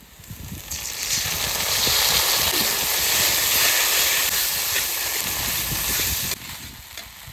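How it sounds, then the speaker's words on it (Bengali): Onion and ginger frying in a pan, a loud continuous hissing sizzle that holds steady for several seconds before dropping off abruptly near the end, with low crackles underneath. "পেঁয়াজ ভাজা ভাজা হয়ে গেছে এবার দিতে আদা"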